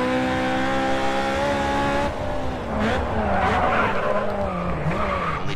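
Heavily damaged race car in the racing game GRID 2, its engine droning loudly and steadily before giving way to rough tire skidding and scraping for the rest of the stretch, with no talk.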